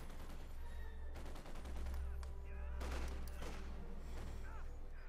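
Company of Heroes 2 battle between OKW and UKF forces on a farmland map: dense, sustained machine-gun and rifle fire with scattered grenade booms, rolling continuously at moderate distance and fairly low level.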